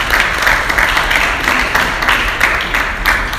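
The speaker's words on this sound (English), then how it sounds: "I think we should give the professor a round of applause for that." Conference attendees at a One Health and Biosecurity meeting give the professor a round of applause, a steady wash of many hands clapping, moderately loud and continuous with slight rhythmic pulses.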